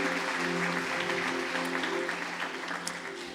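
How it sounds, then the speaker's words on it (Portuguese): A church congregation claps together in a steady wash of applause, continuous and fairly even, fading slightly toward the end, with a faint musical drone underneath. "Vamos aplaudir o Senhor."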